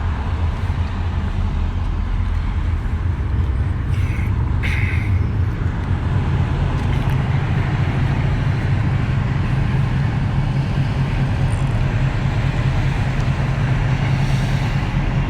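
A Hyundai Santa Fe drives along, giving a steady low road rumble and engine drone with tyre and wind noise, heard from inside the cabin, constant throughout with no speech.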